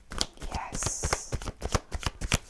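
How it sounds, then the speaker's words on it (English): Chuck Spezzano love oracle cards being shuffled close up, with rapid, rhythmic papery slaps and riffles and brief faint voice sounds mixed in. "Let's have some Chuck Spezzano love cards for you"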